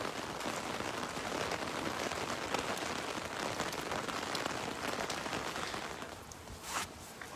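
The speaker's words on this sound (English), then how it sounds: "Look at all the rain." Steady heavy rain pours down near a porch, a dense continuous patter and hiss of drops hitting surfaces throughout, loud and close with no voices.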